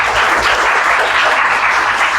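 Church congregation applause during a Spanish-language sermon, a steady, dense wash of many hands clapping together, close and loud, continuing evenly without a break.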